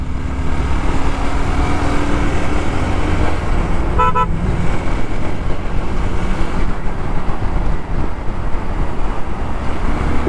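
A motorbike ridden through road traffic, with a steady rumble of engines and wind throughout and a brief horn toot near the middle; no talking.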